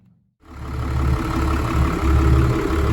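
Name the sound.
Volvo Penta TAMD41-P marine diesel engine starting and running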